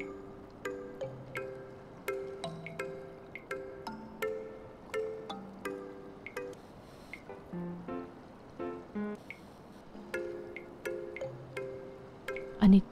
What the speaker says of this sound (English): I need to stop that dripping noise.